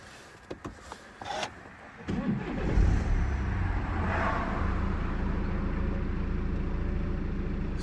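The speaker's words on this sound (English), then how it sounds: "We'll start the car up for you." A BMW 420d diesel engine with a manual six-speed gearbox cranks and starts, then settles into a steady low idle rumble, heard close from inside the car after a few clicks and clunks.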